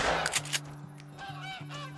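A single gunshot at a goose in the Call of the Wild hunting game, a sharp crack near the start followed by a second report and a faint steady tone, no talking.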